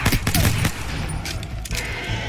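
Rapid gunfire bursts from Apex Legends, a quick volley of sharp close shots followed by a lingering rumble of game ambience.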